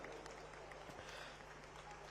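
Loud crowd applause for honoured participants at an outdoor closing ceremony of a tribal cultural festival in Jagdalpur, a dense continuous roar of clapping with a steady hum and voices mixed in.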